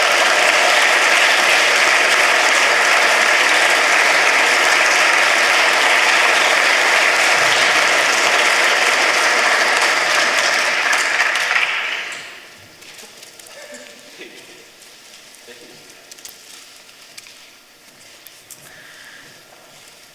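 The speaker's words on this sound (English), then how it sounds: "Give them a round of applause." A large audience at a science prize ceremony claps loudly and steadily for about twelve seconds before the applause cuts off abruptly into quiet room noise with a few scattered sounds.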